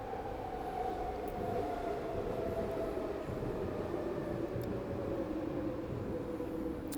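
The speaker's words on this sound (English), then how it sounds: "And for a Sunday night, that's a lot of trains." A train rumbles steadily past on a Sunday night, a loud continuous roll of wheels on rails with a faint tonal whine running through it, no voices.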